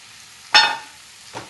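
Spinach tossed into softened tomatoes frying in a pan, a single loud sizzling hiss as the leaves hit the hot oil, fading off, then a brief softer stir a moment later.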